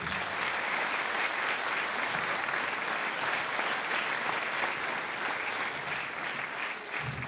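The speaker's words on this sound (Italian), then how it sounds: "chiamo anche io un applauso per lei" Sustained applause from a large crowd at a philharmonic band concert in Modica, steady and loud, continuing without letup for the whole stretch.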